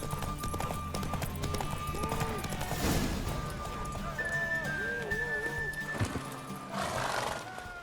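Horse galloping in a race in The Witcher 3: steady clip-clop hoofbeats close by, with neighs and whinnies and bursts of louder clatter, under voices talking.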